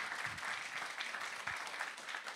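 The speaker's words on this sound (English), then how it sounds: "how about another round of applause for that wonderful piece?" Audience clapping after a jazz piece at a mental wellness event, a short burst of dense, steady applause from a crowd at moderate distance.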